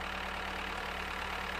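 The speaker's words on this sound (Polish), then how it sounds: "Dobra, jadymy, słuchajcie, ciągnikiem, bo się wyładowałem różnymi produktami." A tractor engine in the farming video game Farmer's Life idles with a steady, even drone and a faint knocking texture, continuous and alone.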